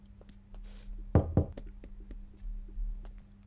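Knocking on a door: two firm knocks land close together in the middle of a quiet room, with a low steady hum and faint background movement, and no voices.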